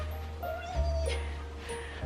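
A pet cat meows several times in short, plaintive calls at close range indoors, with quiet low background noise between them.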